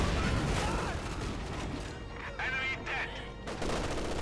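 Mortar fire from a Pak 40 battle scene in Company of Heroes 2, with loud booming blasts and crackling explosions in quick bursts mixed with battlefield noise, while a voice talks over it.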